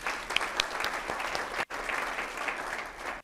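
An audience at a 2023 State of the City address in DeSoto breaks into sustained applause, dense steady clapping filling the room, with a brief gap partway through.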